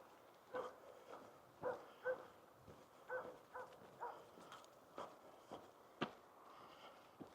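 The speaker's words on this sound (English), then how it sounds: "There's a barking dog over there somewhere." A dog barks repeatedly at a distance, faint and irregular, with short gaps between the barks and soft outdoor background noise.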